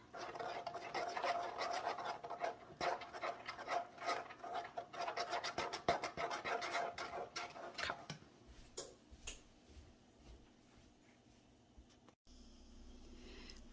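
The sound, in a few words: spoon stirring honey mixture in a saucepan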